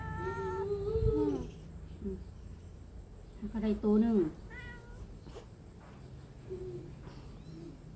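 A cat meows in drawn-out, wavering cries several times, fairly close, with someone talking intermittently around the calls.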